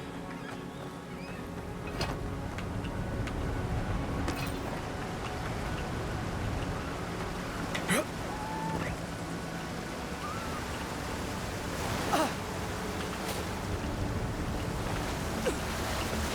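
A waterfall in the video game Avowed makes a steady, even rushing hiss that fills the whole clip at moderate volume, broken by a few faint clicks and taps.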